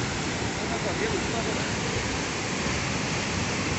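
A swollen river overflows its banks, its fast water producing a loud, continuous broadband roar that stays steady and unbroken throughout.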